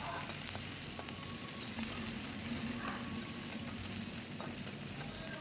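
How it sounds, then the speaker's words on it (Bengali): Panch phoron and ginger-chilli paste sizzling in hot oil, a steady, moderately quiet frying hiss with occasional light ticks and pops, no talk. "এবারে সেই তেলেই কিছু পাঁচফোড়ন দিয়ে পেস্ট করা আদা লঙ্কাটা দিয়ে দেবো"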